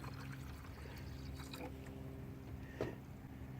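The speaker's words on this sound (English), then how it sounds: "So I'm going to pour some more water into this" Water pours into a Ford Mustang GT radiator in a steady low gurgle with a brief splashy burst near the end, set against a constant rumbling engine-like background.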